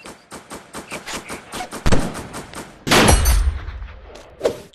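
Gunfire in a chimp-themed multiplayer shooting game: a rapid series of close sharp shots in a steady burst, then heavy booming blasts and a final shot.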